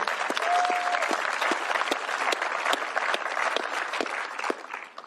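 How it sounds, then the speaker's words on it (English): A crowd applauding at a governor's bill signing, dense sustained clapping from many people at steady volume that tapers off slightly at the end. "One more round of applause for all of our speakers today."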